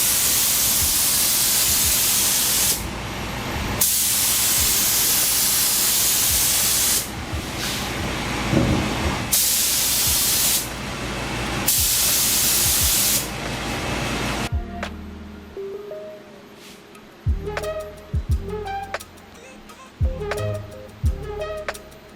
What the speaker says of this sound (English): This is my clear coat. Once you start spraying, it goes under vacuum.